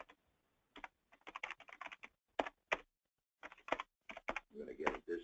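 Someone types on a computer keyboard to log in: close, quiet clusters of quick key clicks in short bursts with small pauses, in a quiet room.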